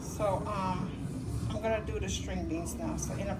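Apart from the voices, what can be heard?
No distinct noise like a dog, phone or traffic.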